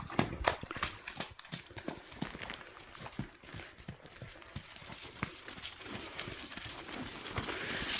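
A pony's hooves clip-clopping in a rhythmic, fairly close run of hoofbeats on firm ground, steady and continuous with faint rustling around it.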